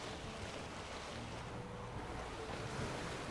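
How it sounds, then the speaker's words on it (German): Wind and surging waves wash around a sailing boat in The Witcher 3, with a sail flapping in a constant, dense rush of sea and gusting air, steady and fairly quiet with no talk. "Aus dem Wind das Segel flattert."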